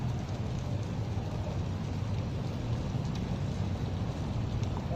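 Heavy rain falling in a dense, steady roar with no pauses, loud and close throughout a street scene in Hanoi.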